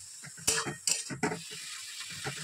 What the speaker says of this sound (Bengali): এই যে শাক ভাজতে দিয়েছি লাল শাক